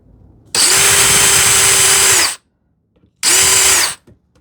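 A power drill driving a countersink bit into wood, two loud close whirring bursts, the first about two seconds and the second shorter, separated by a brief silence.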